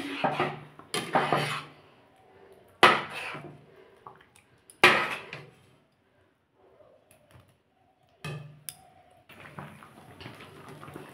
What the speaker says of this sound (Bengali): আর এরকম করে সমানে নাড়ছি।